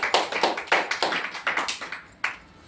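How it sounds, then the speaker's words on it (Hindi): An audience at a product and motivation talk claps together in quick, rhythmic bursts, loud and close, ending with a final single strong clap. "एक बार जबरदस्त ताली होना चाहिए"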